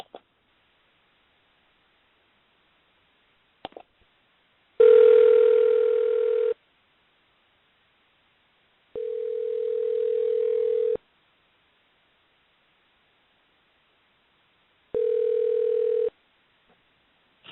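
A telephone dial tone sounds in three separate steady beeps with silent gaps between, each lasting about one to two seconds, plus a few faint clicks during a phone call.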